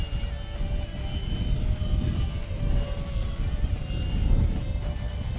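A Freewing Seagull 1400mm 4-in-1 EDF RC airplane flies a tight turn outdoors in the wind, giving a steady whirring drone with gusty wind rumble underneath and no talk.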